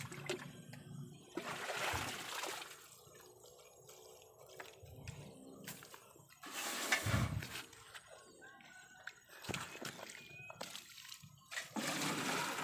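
Water scooped by hand outdoors for watering kangkung plants, faint splashes and trickles at irregular intervals, quiet and close with background ambience.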